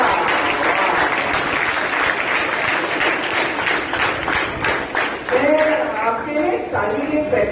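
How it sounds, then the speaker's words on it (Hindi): An audience at a career counselling program on a campus claps loudly and continuously, a dense crackle of applause with a voice speaking over it toward the end. "आदरणीय जलान साहब के लिए मैं चाहता हूँ आप जोरदार तालियां एक बार बजाएं"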